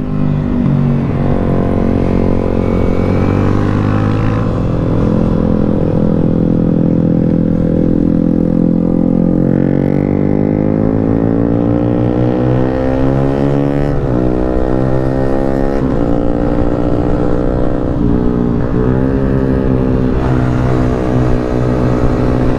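A Yamaha demo motorcycle is ridden, its engine droning loudly and close as it rises and falls in pitch through repeated revving and gear changes.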